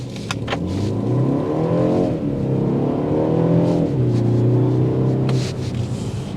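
A 2024 BMW X1 with a dual-clutch automatic accelerates hard on a test drive, its engine note rising steadily through the gears, loud and close throughout with no talk.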